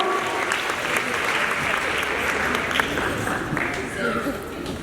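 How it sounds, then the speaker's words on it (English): A middle school assembly audience applauds a speaker, producing a broad, sustained roar of clapping from many students, with chatter and faint voices blended under it throughout. "Give her a round of applause."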